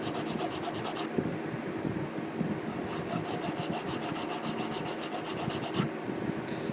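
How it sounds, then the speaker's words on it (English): A steel file rasps back and forth over the pin of a straight razor, held between its scales, in a steady run of close, scratchy strokes with no talk. "So I'm going to sand it down a little more, file it down."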